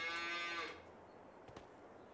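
A cow in Farming Simulator 22 gives one long, drawn-out moo, loud and close, that fades after about a second, followed by faint quiet game ambience.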